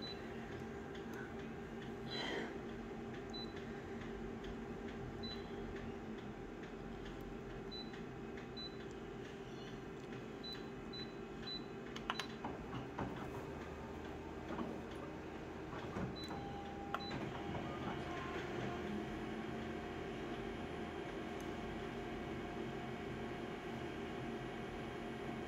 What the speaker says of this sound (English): Taking a while to stabilize image, sorry folks, that's just Konica Minolta's functionality, or lack thereof.